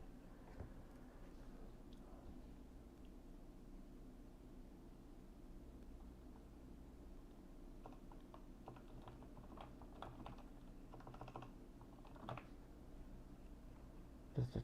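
Faint, scattered keyboard typing sits under a steady low hum and hiss, with a few sharper key clicks near the end.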